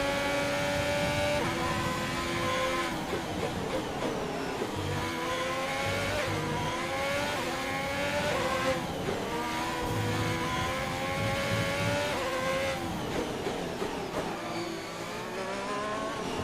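A race car in the F1 video game Braking Point, its engine screaming loud and constant through gear shifts and revving, with rising and falling pitch and brief squeals while the car nearly loses grip on the grass.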